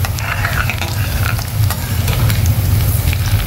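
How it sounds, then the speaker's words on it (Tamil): Mustard seeds crackle and pop in hot oil while tempering for South Indian tomato rice, a dense, steady sizzle scattered with sharp little bursts close to the pan and no voices. "கடுகு நல்லா பொரிஞ்சிருச்சு."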